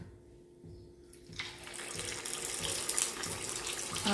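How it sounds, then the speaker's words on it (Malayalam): Semolina neyyappam batter hits hot oil after a quiet moment, setting off a sudden broad hiss that swells into a steady, bubbling sizzle nearby. "അപ്പം ഇനി ഞാൻ അടുത്തത് ഒഴിച്ചു കൊടുക്കാൻ പോവാണ് കേട്ടോ. എണ്ണയൊക്കെ നല്ല ചൂടാണ്."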